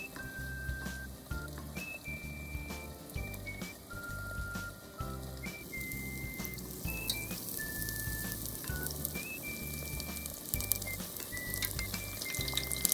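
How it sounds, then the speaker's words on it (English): Steady sizzling and bubbling of tempura-battered eggplant frying in hot oil, with no talking; a whistling tone drifts in and out over the crackle. "Fry the eggplant in the same way."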